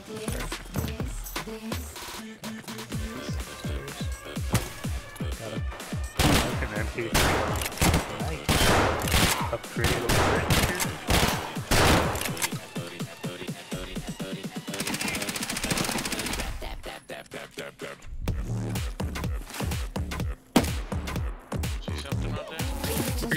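Video game firefight with dense, sustained bursts of automatic gunfire and scattered single shots over a long stretch, loud and close, with a short quieter gap partway through.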